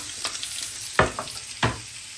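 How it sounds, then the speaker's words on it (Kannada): Onions frying in ghee in a home kitchen pan, a soft steady sizzle underneath with a few sharp stirring clatters of a utensil against the pan, close and fairly quiet, no talking. "ಸೊ ಫಸ್ಟ್ ತುಪ್ಪದಲ್ಲಿ ಆನಿಯನ್ ನಾನು ಫ್ರೈ ಮಾಡ್ತಾ ಇದ್ದೇನೆ"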